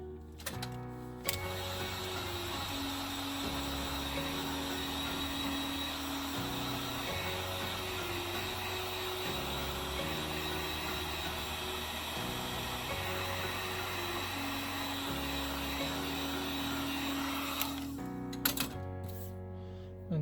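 A heat gun blows hot air onto the bottom part of a Samsung Galaxy J7 Prime screen during an LCD replacement, giving a steady, close, continuous whoosh with a faint motor whine that keeps going for most of the clip and stops near the end.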